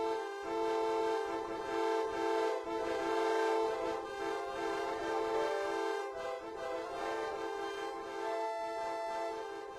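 A Deltarune game music track built from car horn honks forms a dense, continuous chain of blaring, harmonically rich horn tones that pulse in a rhythmic pattern and play loud and close with no talking.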